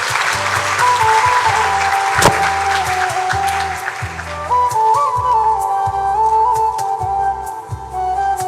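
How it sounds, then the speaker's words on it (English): Applause at a Hindu college graduation ceremony for graduating students, sustained crowd clapping under steady music with repeating low tones and a sustained melodic line. "Let's give our students a round of applause for making us proud."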